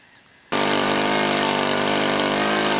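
A model airplane engine on a Zero warbird, fitted for a first flight, starts abruptly after a quiet moment and runs at a steady, loud, buzzing idle with dense harmonics and no talk.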